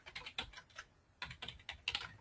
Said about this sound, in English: Typing the city name.